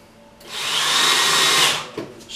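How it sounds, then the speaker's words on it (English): A power drill drives a screw into a wall while a SOLID 8 rack is being installed, in one loud, close whirring burst of under two seconds that cuts off abruptly. "just literally screwing into the wall at that point"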